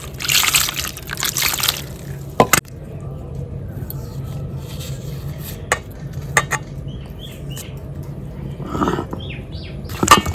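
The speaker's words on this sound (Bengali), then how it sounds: "একটু জল দিয়ে ধুয়ে নিচ্ছি।" Water is poured over burnt spices to rinse them before grinding on a grinding stone, giving soft trickling and splashing with a few sharp clinks of a pot or utensil, fairly close, with faint speech in the background.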